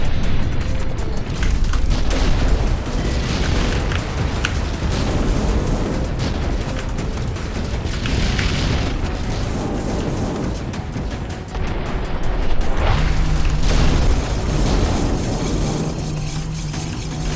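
Bomb explosions in a loud, dense barrage of deep booms and rumbling blasts, continuous and close for the whole stretch with no clear pauses.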